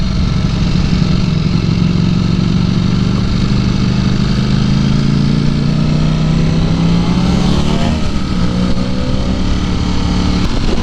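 Ducati motorcycle riding on the road, a loud steady engine drone with heavy wind rush throughout and a slight pitch shift near the end, no talking.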